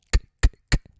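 Three quick mouth clicks from a vocal percussionist imitate a drummer's cross stick on a drum rim, sharp and woody, close and evenly paced with faint tails.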